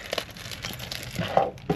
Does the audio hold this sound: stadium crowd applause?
no